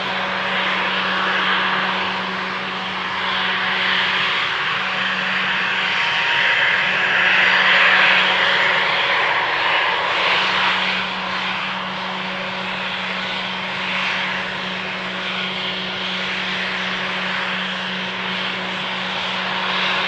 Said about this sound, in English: I think that now the Embraer is taxiing onto the runway.